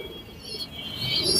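Pigeons kept indoors give a soft, low coo amid faint chirpy bird sounds, brief and fairly quiet with no talking.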